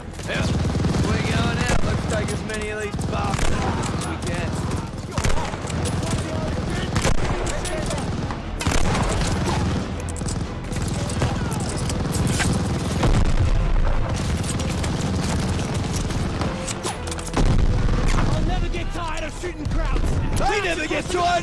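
Dense, loud gunfire and booming explosions from a Call of Duty: Vanguard battle, with continuous rapid shots and heavy blasts, and voices shouting over the combat.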